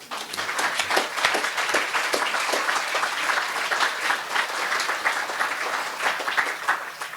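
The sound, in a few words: audience applause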